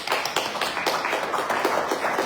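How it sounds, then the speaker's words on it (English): A crowd at a fellowship service gives steady applause for the musician Corey Williams, a dense wash of many hands clapping that carries on throughout, with no voices over it. "Let's give him a big hand of applause"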